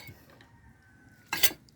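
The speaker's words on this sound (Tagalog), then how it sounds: "Paghalo-haloin nyo lang po yan." Utensils stirring a banana heart salad give one short, bright clinking scrape against the bowl after a quiet pause, close and brief.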